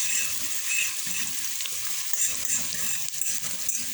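Curry shrimp being stirred in a pan over a low stove, giving a steady close sizzle with soft scraping stir strokes throughout.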